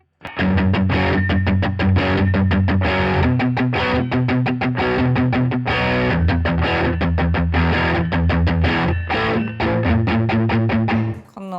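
A distorted electric guitar tuned low, played through a distortion pedal for a heavy low end, chugs steadily through palm-muted low notes with occasional sustained chords, loud and dense throughout with no voices.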